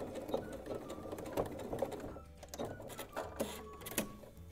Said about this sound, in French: Et nous allons coudre une petite couture juste là pour fixer cette petite jolie angle.